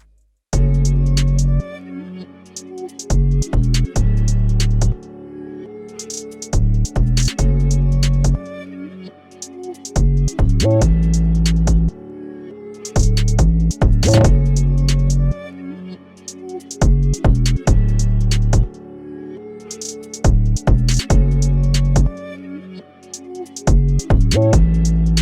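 Trap or drill beat with an 808 bass and kick run through Logic Pro X distortion, the loud booming low notes hitting in rhythmic bursts with gaps between phrases, alone with no talking.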